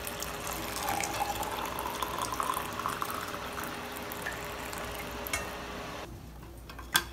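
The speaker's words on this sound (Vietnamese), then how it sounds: "Chúng ta thêm nước sôi các bạn nhé" Freshly boiled water pours into a pot, making a steady hissing splash for about six seconds before it cuts off, then a faint clink. The sound is fairly quiet, with no voices.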